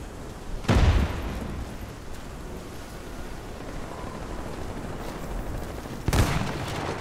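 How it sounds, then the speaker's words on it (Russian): Two muffled booming grenade blasts in the video game Warface, one near the start and another about five seconds later, over a constant low rumbling background. "Кидаю гранату!"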